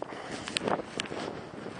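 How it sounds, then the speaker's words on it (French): Wind gusting across an exposed mountainside buffets and roars in soft irregular bursts, faint and close to the microphone, with no voices. "là il y a du vent"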